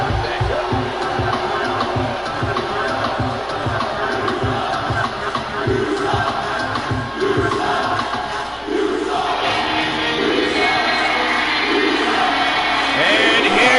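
A wrestling crowd at a live show in Seattle cheers and chants loudly and steadily, rising further toward the end, with a commentator talking over it.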